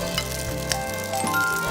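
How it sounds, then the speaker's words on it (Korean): Noodles stir-frying with green onion in olive oil in a pan, a steady close sizzle with a few soft stirring scrapes, no talking. "그래서 파에다 지금 면을 먼저 이렇게 볶아요"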